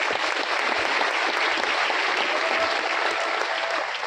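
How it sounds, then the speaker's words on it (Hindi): A hall audience breaks into a steady burst of applause, loud and sustained throughout, dense overlapping claps with no speech over them. "एक ताली हो जाए उनके लिए।"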